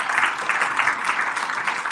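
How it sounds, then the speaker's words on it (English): An audience applauds together in a dense, steady burst of clapping that fills the room from start to finish. "I want you to give yourselves a round of applause."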